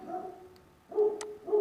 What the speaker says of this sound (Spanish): otra vez mi perro, disculpen.